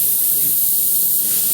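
A paint spray gun hisses in a steady, continuous broad spray, set up with a 6 to 8 inch fan pattern for painting, loud and close throughout.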